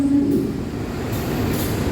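Inside the Progo economy train stopped at Kroya station in Indonesia, a low steady rumble of the idling carriage with faint clatter and a short tonal whine at the start, no clear voices.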